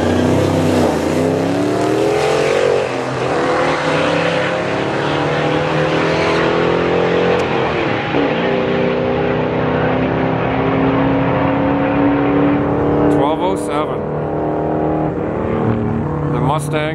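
At a Friday night test-and-tune drag strip, a drag racing truck launches and accelerates hard, its engine climbing through rising gear sweeps, loud and close, while a voice talks over the roar.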